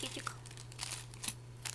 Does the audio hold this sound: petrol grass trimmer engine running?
no